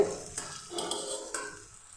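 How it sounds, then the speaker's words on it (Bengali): Ginger, garlic and onion fry in a pan, giving a soft, steady sizzle broken by a few stirring scrapes that fade toward the end. "আদা, রসুন, পেঁয়াজের কাঁচা গন্ধটা চলে গেলেই আমার ভাজাটা হয়ে যাবে"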